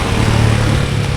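A parked motorcycle idles outside a roadside lomi eatery, its engine a steady, close, even rumble that holds throughout with no talking.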